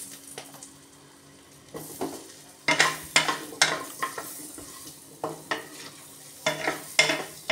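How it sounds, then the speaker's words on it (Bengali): Diced potatoes sautéing in hot oil with crushed cardamom in a pan, a light sizzle broken by a series of sharp scraping stirs and clinks of a spatula, close and clear. "এবারে আমি প্রথমে দিয়ে দিচ্ছি আমার ডুমো ডুমো করে কাটা"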